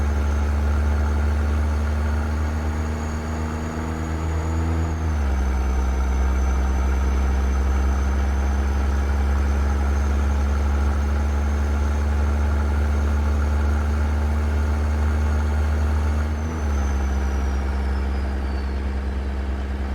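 Caterpillar C-15 truck engine with turbo, tuned and paired with an Allison transmission in American Truck Simulator, heard from a wheel-mounted camera: a loud, steady diesel drone whose pitch drops twice at gear changes, no voices.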